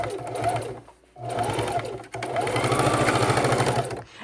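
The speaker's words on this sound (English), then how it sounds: "if your sewing machine doesn't want to sew" A home sewing machine stitches a dart in oversized jeans, whirring in two bursts with a short pause between them, close and loud, with faint speech underneath.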